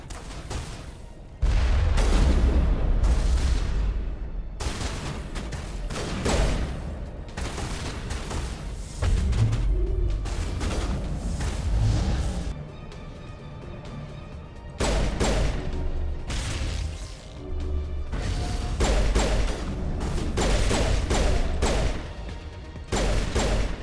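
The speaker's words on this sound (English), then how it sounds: "We found some shooting?" Loud gunfire from Mass Effect, with rapid bursts and booming shots repeating through the stretch, broken by brief lulls, close and dense, with no talking.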